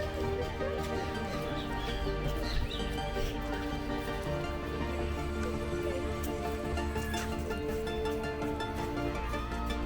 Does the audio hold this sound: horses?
yes